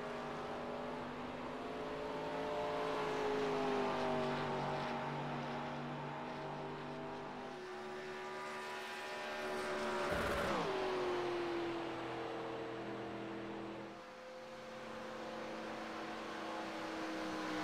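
Race car engine in a Daytona racing video game holds a steady revving drone, its pitch stepping down with gear shifts and swelling briefly around the middle before settling into a continuous hum.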